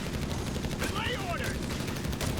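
Dense, continuous battlefield gunfire in Company of Heroes 3, a Wehrmacht versus US Forces match, with riflemen firing from several sides as rapid overlapping shots over a steady din, joined midway by a brief whistling sweep.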